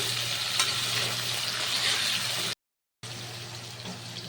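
Cauliflower and potato fry in hot oil for Navaratan pulao, giving a steady, close broadband sizzle with stirring scrapes, briefly cut to silence midway before the frying resumes.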